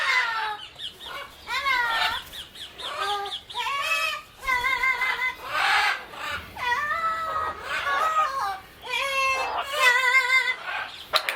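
Several parrots squawk and screech repeatedly during a training session, loud and close, with harsh overlapping calls running throughout.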